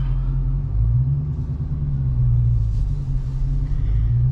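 Dodge Charger Scat Pack pulling away after a tint install, a steady low engine rumble close by from inside the car with no one speaking.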